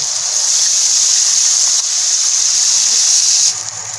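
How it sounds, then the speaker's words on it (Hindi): Water poured from a container into a cooking pot holding green chillies and yogurt, while preparing plain rice; a steady, close, continuous gushing splash lasting several seconds, tapering off at the end. "अब इसमें पानी ऐड करेंगे।"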